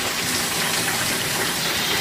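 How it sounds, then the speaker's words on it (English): Water gushes from a tap into a bucket for washing a car at home, a steady, close rushing stream with no talking. "you want to fill your buckets with some water"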